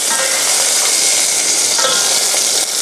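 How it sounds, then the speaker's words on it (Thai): Loud, continuous sizzling of garlic stalks and other vegetables frying in hot oil for gravy sauce, a bright crackling hiss close up with occasional sharper pops. "ในเนื้อมันมีน้ำพอโดนกับน้ำมัน แล้วมันก็จะอย่างเงี้ยครับ ระเบิดเถิดเทิงนิดนึง"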